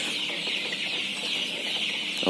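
A flock of young chickens on a poultry farm in North Bengal keeps up dense, steady clucking over a constant broadband barn hum, close and unbroken with no talking.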